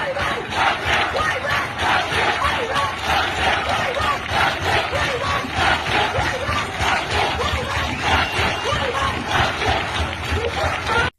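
Thousands of students and townspeople rallying in the streets of Panchagarh, Bangladesh, chanting slogans in loud, rhythmic unison, the massed voices rising and falling in steady waves throughout.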